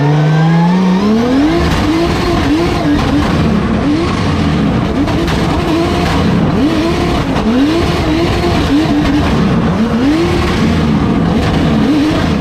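A drift car with a turbo anti-lag system drives hard, its engine revving up and down in repeated rising pulls with crackling pops and tire noise throughout, very loud and close, with no talk.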